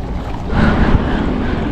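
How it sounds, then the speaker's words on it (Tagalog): Strong wind roars around a fishing boat out at sea during a typhoon. The rush is steady and close, with microphone buffeting and a rumbling low end that swells briefly midway. No voices are heard. "Malakas ang hangin."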